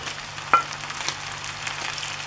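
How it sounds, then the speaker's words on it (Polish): Steady crackling sizzle of boiled potatoes frying in a pan, with a few sharper pops and a low hum underneath; no talking. "I smażymy nasze ziemniaki"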